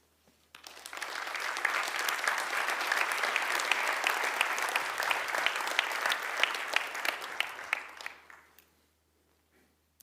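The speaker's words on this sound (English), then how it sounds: "So can I ask the audience for a big round of applause for the stakeholders?" Audience applause at an IOC Rio Olympics report meeting, a sustained crowd clapping that swells in quickly, holds steady for about eight seconds, then fades out, with no voices over it.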